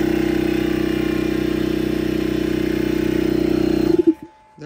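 A McGraw 21 gallon air compressor in a garage runs with a loud, steady motor drone and rapid piston chug for about four seconds, then cuts off abruptly, followed by a brief clatter and near silence.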